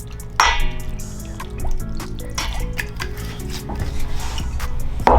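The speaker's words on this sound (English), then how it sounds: "I think I'm gonna add some more" Vinegar pours into a salad dressing with a thin liquid trickle, with light clinks and taps of a container and utensils, close and moderately loud.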